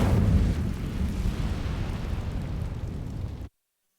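An Incendio fire spell ignites dry vines in Hogwarts Legacy, giving a loud eruptive whoosh and crackling roar that gradually fades over about three seconds before cutting off abruptly.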